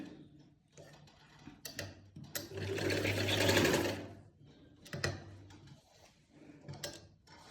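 A sewing machine stitches a pocket onto palazzo pants in one rapid, close run of about two seconds, surrounded by quiet ticks and fabric handling.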